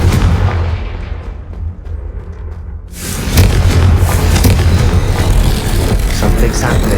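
A Confringo blasting spell bursts in Hogwarts Legacy, a loud, booming explosion that erupts after a quieter rumbling lead-in, then rolls on as a dense roar of blasts and debris.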